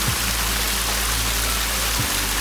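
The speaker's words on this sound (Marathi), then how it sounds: "पाऊस आला ताई" Steady rain falls outdoors in a Konkan village, a continuous broadband hiss with low rumbling underneath, close and even throughout with no voices.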